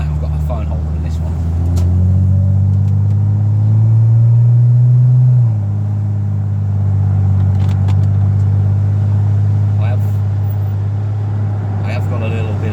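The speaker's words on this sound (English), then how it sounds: "So I've got performance exhaust on." A Porsche Boxster 986 fitted with a performance exhaust, driving with a deep steady engine drone that swells and eases as revs change, heard from inside the cabin and loud throughout.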